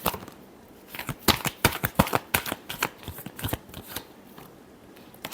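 Tarot cards being shuffled, a fast run of crisp riffling snaps and slaps that bunch together in the middle and trail off toward the end, close and alone with no talk.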